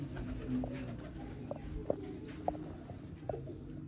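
Black teddy pigeons coo on a Rawalpindi rooftop early in the morning, several short cooing calls spaced about half a second apart over a low continuous outdoor rumble.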